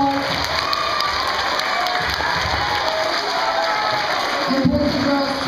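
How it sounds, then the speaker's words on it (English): Applause and cheering from children at a school fundraiser assembly, a dense steady clapping crowd filling the hall with scattered shouts, fairly loud and continuous. "Round of applause."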